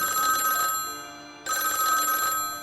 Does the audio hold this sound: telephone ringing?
yes